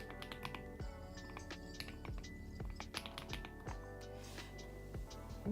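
Continuous fast typing on a computer keyboard, dense clicking keystrokes close up with a steady uneven rhythm and no talk.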